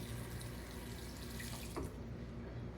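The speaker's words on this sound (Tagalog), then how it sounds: "Lagyan natin ng tubig." Tap water runs steadily into a cooking pot, a continuous close splashing stream lasting a few seconds with a brief shift near the end, no voices.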